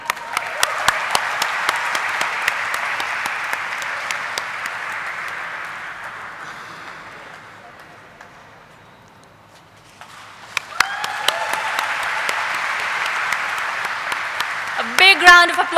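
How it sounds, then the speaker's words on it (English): Loud crowd applause with dense clapping at an IPO listing ceremony, fading to near silence midway, then surging back strongly. "A big round of applause for all our dignitaries."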